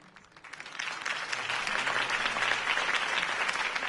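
Crowd applause at a campaign speech in Batman: The Telltale Series, building from a soft start into steady, dense clapping that holds for several seconds without voices.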